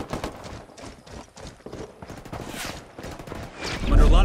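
Gunfire in a Ghost Recon Wildlands PvP match, a dense stream of sharp cracks and bursts through the whole clip, with a louder, heavier blast swelling near the end.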